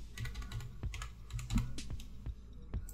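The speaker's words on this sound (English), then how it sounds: "So I'm gonna type in anything." Keys clack on a computer keyboard in an irregular run of about a dozen close, crisp taps, with no voice.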